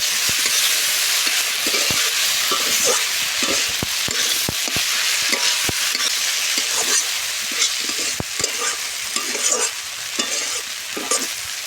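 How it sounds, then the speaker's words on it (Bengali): Sweet potato greens freshly picked from the field sauté in a pan with cumin and chili paste, a steady loud sizzle with repeated scraping stirs and sharp clinks of the spoon, no voices. "তিন মিনিট ভালোভাবে কষাবো"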